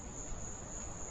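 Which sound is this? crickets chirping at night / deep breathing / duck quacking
crickets chirping at night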